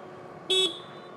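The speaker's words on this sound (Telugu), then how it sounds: "హార్న్ కూడా పెద్దది, బాగుంది." A BMW CE 02 electric scooter gives a single short, bright honk of its horn, close and clear over faint low background noise.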